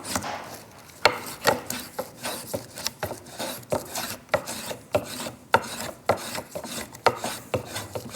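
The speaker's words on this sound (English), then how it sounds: "See how I switched the spoke shave?" A spokeshave shaves a curved wooden handle in a series of quick, rasping strokes at a regular rhythm, each stroke a sharp scrape close by with brief gaps between.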